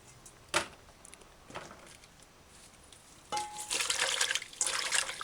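Vegetables are rinsed in a bowl of water with a few drops of distilled white vinegar, some soft splashes and clinks early, then a stronger continuous sloshing and trickling toward the end.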